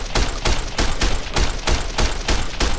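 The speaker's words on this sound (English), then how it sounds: "Here's our service rifle, the M16." M16 service rifle fired in Fallout: New Vegas, a rapid burst of loud, punchy gunshots in a steady rhythm, about eight cracks in under three seconds, heard alone without talk.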